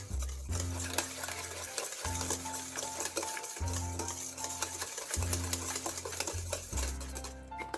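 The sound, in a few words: mixing fruit cake batter with orange juice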